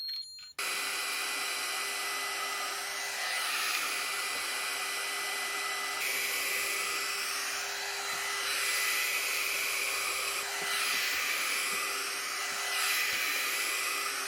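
A hair dryer blows hair dry at home, switching on right away and running as a loud, continuous close whoosh with a steady whine and slight swells as it moves around the head, with no talking.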